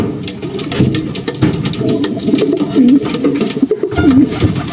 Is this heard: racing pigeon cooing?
yes